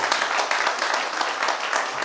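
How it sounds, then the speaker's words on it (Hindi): Audience applause in a hall at a motivational talk, steady dense clapping from many hands, moderately loud and continuous for a couple of seconds with no speech. "बजाइए जोरदार ताली।"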